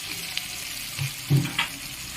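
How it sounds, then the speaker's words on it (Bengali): Brief soft sizzling of onions frying in a pan with a couple of light stirring knocks, close and fairly quiet. "পেঁয়াজগুলো হালকা লাল লাল করে ভেজে নেব"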